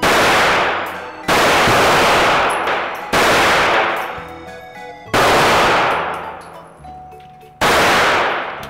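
Gunshots from a handgun fired at a target on a shooting range, four loud sharp reports spaced about two seconds apart, each followed by a long decaying echo.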